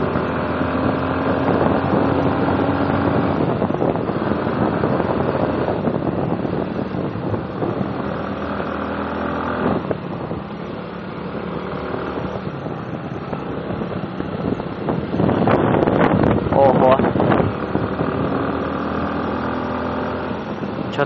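A scooter engine runs steadily on a winding mountain road in Vietnam, a loud continuous drone with wind buffeting the microphone and a brief surge in revs near the end.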